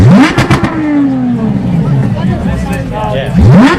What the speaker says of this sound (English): The Aston's going to sound amazing.